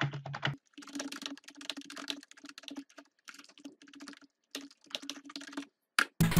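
Rapid typing on a computer keyboard during a programming session, bursts of quick clicky keystrokes separated by short pauses, close and clear, ending with a couple of louder key taps.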